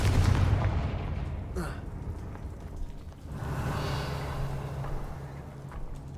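A Confringo blasting spell in Hogwarts Legacy sets off a roaring, continuous explosive rumble with crackling debris, swelling again midway and lasting several seconds at close range.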